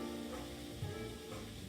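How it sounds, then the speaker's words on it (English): Liver cooks in a pan over a hot fire, giving a low, steady sizzle that stays quiet and unchanging for under two seconds, with no voices. "this is liver that I'm cooking up right here"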